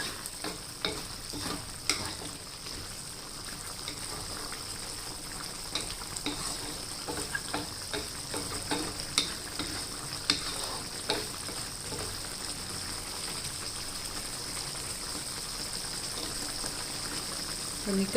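Steady sizzling of pork panang curry frying in a pan, with a spoon scraping and stirring through it now and then, continuous and close.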